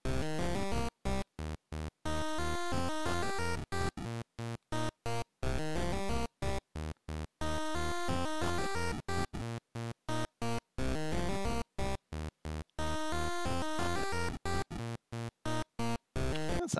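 Tracker music pattern played back in Command Tracker, a looping electronic sequence of buzzy synthetic notes in repeated bursts with short rhythmic gaps, steady and fairly quiet, without any voice.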